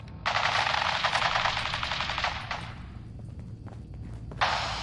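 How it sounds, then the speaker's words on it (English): Sustained automatic gunfire from the video game Fallout 4 rattles in a dense rapid burst for about two seconds, trails off into scattered shots and thuds, then a fresh burst starts abruptly at the end. "Stop or we'll shoot! Men, open fire!"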